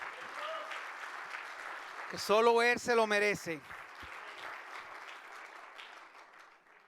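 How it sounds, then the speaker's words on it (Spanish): A church congregation applauds steadily throughout, a dense wash of clapping that carries on beneath someone speaking in Spanish in the middle. "Vamos a darle un aplauso nuevamente a nuestro Dios"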